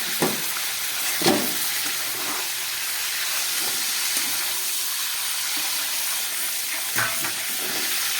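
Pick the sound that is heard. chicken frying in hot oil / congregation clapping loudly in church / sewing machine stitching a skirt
chicken frying in hot oil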